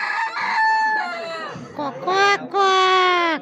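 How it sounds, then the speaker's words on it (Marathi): Rooster crows twice in a Konkan village during the Shimga festival, long loud calls with rising then falling pitch, close by, separated by a brief pause with faint background sound between them. "ऐकलत काय ही कोंबड्याची बांग झाली"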